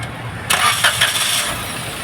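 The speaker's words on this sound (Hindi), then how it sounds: "गाड़ी स्टार्ट करो।" A Maruti Suzuki Celerio, just fitted with a new original ignition coil after a cylinder 1 misfire, cranks briefly and starts, then settles into a smooth, even idle close by.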